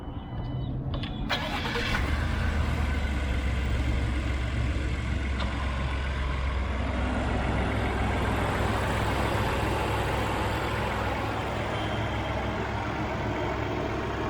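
A Ford F-150 pickup with a turbocharged EcoBoost six-cylinder engine catches, then settles into a steady, close, low idling rumble that runs on evenly with no one talking.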